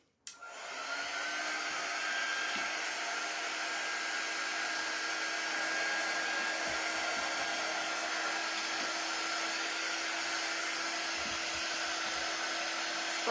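A dryer blows a steady, loud stream of air at hanging Christmas decorations, starting abruptly and holding an even whine and rush for several seconds without a break.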